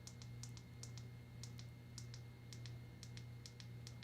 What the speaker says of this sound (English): very clicky buttons, guys